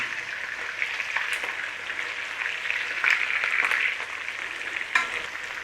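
Chicken pieces, skin side down, browning in a pot for a one-pot stew, giving a steady close sizzle and crackle with a few sharper spits of fat, with no talking over it.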